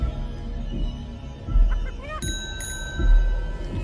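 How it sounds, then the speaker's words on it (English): Two quick metallic dings of a chicken bell in the video game Chicken Feet, clear and close, amid low thumping footfalls and faint squawking game sounds. "Okay, I heard the chicken go over the bell."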